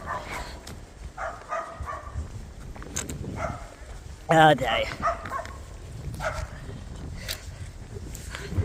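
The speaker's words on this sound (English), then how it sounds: "Gosh, that dog talking on." A dog barks near a house during an outdoor walk to put out the trash, with a short loud bark cluster in the middle over ambient street noise and footsteps, and a person speaking briefly.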